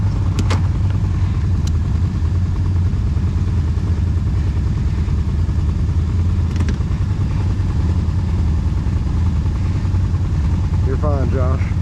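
A Can-Am Outlander 1000 ATV idles and rumbles on a pine-woods trail ride, a steady close engine drone throughout with occasional clanks, while people talk over it.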